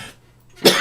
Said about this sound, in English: You ever been doing that, like coughing after a bong hit?